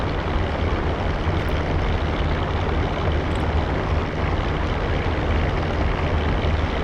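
Propeller airplane rolling down the runway on its takeoff run during basic flight training, a steady loud engine and propeller drone with broadband rumble throughout, close and continuous with no talk.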